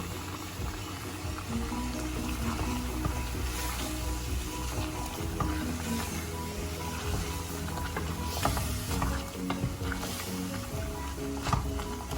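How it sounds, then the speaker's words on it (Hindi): Spicy chicken with a splash of vinegar frying in a pan, a faint steady sizzle with a rhythmic scraping, ratchet-like stir running through it, no speech. "फिर हमने इसको अच्छी तरह भूनना है"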